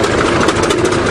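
A 20-ton bulldozer's diesel engine runs steadily at idle, a dense, continuous low rumble with even vibration and no voices.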